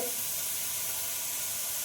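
Food frying in a pan gives a steady, close sizzle with a bright hiss that holds evenly throughout, with no talking over it.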